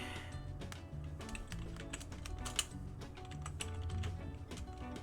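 Rapid, continuous clicking of keys on a computer keyboard plays over a low background hum and sounds fairly quiet and close.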